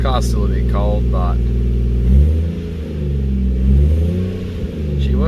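A Toyota JZX110 engine idling cold and rising in a few revs, a close, steady low rumble with rising and falling pitch, while someone talks over the start.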